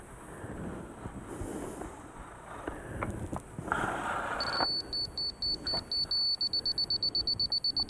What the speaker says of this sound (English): Hear that fast beep means a little bit high.